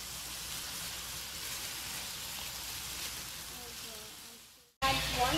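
Chicken breast pieces sizzle in a small amount of oil, a steady bright frying hiss for several seconds that dips briefly, then resumes louder with a voice speaking over it.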